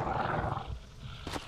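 A corpse-eater creature in the video game Darkwood gives a low, rumbling roar that rolls through, fading out before a short sharp noise at the end.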